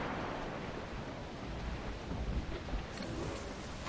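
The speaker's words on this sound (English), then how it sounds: "Storm captured! Looks bad!" Stormy weather at sea in Assassin's Creed IV Black Flag: a steady, dense roar of rain and wind with low rumbling swells, loud and continuous throughout, with no voices.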